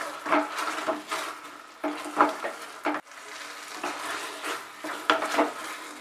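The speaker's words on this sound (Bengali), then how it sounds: "এবারে আমি ফ্রাই করে রাখা চিকেন ড্রামস্টিক গুলো এর মধ্যে দিয়ে দিলাম। গ্রেভিটার সঙ্গে মিশিয়ে নেব।" Fried chicken drumsticks are stirred into a thick gravy, with repeated scraping strokes of a spoon against the pan and a soft sizzle between them. The sound is close and rhythmic.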